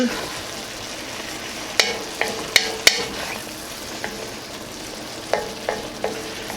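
Dirty rice base seasoned with salt and black pepper in a hot frying pan, stirred with a utensil: a steady sizzle broken by a handful of sharp scraping clicks against the pan, close up.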